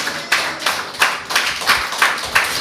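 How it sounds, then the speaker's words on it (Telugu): A church congregation at a Sunday service claps loudly together in a steady rhythm, about three claps a second, close and full, with no talk over it. "ఒకసారి గట్టిగా చప్పట్లు కొడుతూ దేవుని కనపరచండి."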